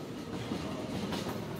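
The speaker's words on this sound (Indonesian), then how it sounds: "kereta lokal Bandung Raya" A Bandung Raya local train passes close by on the rails near Rancaekek at midday, a steady loud rumble of wagons with rhythmic clickety-clack of wheels over rail joints.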